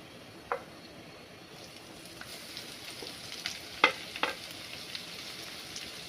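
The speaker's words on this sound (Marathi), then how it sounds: "आता आपले लसूण मिरची चांगलं परतून झाले" Garlic and green chilies with half a spoon of cumin sizzling in hot oil for an Indian vegetable dish, a steady close frying hiss broken by a few sharp stirring scrapes and clinks, no voices.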